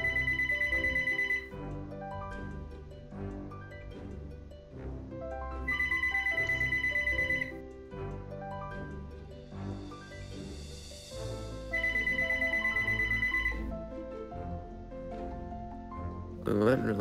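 A mobile phone ringtone chimes in three repeated bursts with pauses between, loud and close, over background music and game sounds during a Golf It match.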